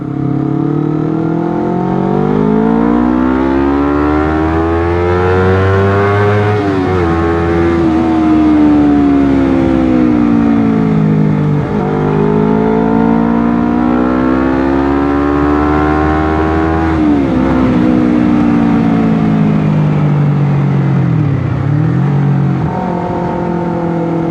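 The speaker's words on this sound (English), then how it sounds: "But that exhaust is really too loud for me." A loud Honda CBR250RR twin-cylinder motorcycle exhaust drones steadily while riding, its pitch rising and falling as the engine revs up and eases off several times, close and continuous.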